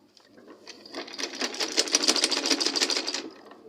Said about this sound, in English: I'll start to sew it now.